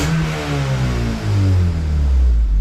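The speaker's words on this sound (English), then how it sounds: "Revs just fine, no misfires." A Honda Civic engine revs up and down in steady pulls after an idle relearn, a loud, close mid-pitched roar with smooth rises and drops and no misfire stutter, with no voices over it.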